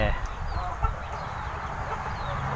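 Wild junglefowl clucking outdoors, soft scattered clucks over a constant rough background of outdoor noise.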